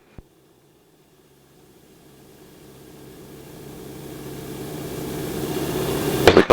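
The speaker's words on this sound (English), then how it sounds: "Just going to take it up to 2000 RPM now" A North American Harvard trainer's piston engine, on the ground at Duxford, climbs steadily in a run-up to 2000 RPM, its throbbing drone swelling from quiet to loud over several seconds and ending in a brief louder burst.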